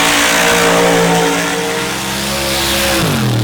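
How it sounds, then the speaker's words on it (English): A 600-plus cubic inch big block Ford drag racing engine roars at full throttle during night competition in Mississippi, loud and close with strong harmonic drone, dipping briefly then the pitch dropping sharply near the end. "600 plus cubic inch big block Ford power plant, again out of Parkersburg, West Virginia"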